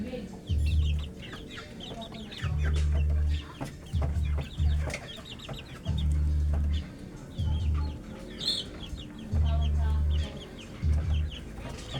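Crossbred gamefowl chickens cluck in short repeated bursts nearby, with occasional higher squawks and background rustling.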